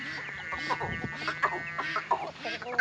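A rooster runs out while chickens cluck and squawk in quick, irregular bursts close by, with a voice talking over the flock.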